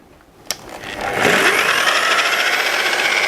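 A BIHUI 1900W concrete grinder starts with a sharp click, then its motor spins up into a loud, steady high-pitched whine that holds close and constant.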